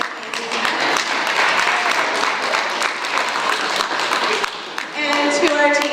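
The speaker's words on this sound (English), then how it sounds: "Give another round of applause for our students for their presentations." Applause from an audience honoring students after their presentations at a school board work session: steady, dense clapping throughout, with a brief dip near the end before it swells again, and faint voices mixed in.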